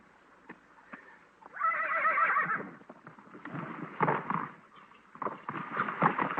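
A horse whinnies loudly in a long, quavering neigh, with thuds and hoof clatter before and after.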